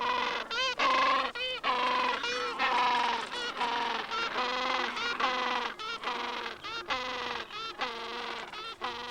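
A Gentoo penguin colony on open ground during feeding chases: a dense chorus of harsh, braying, harmonic calls overlapping in rapid bursts, loud and close, continuous throughout.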